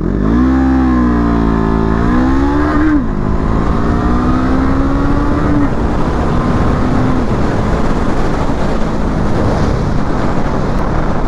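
Brixton Crossfire 500 motorcycle pulling away, its engine note rising in pitch then shifting as it gains speed, loud and close with wind rush building afterward.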